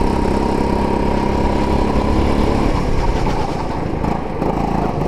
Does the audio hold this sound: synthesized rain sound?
no